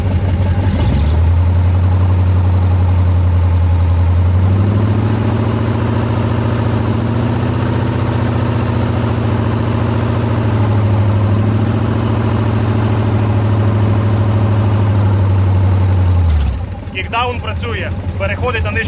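A ZMZ V8 engine fitted with a 4HP22 automatic gearbox rises from idle to a strong, sustained roar during a kickdown test and then drops back, loud and close, with a voice speaking near the end.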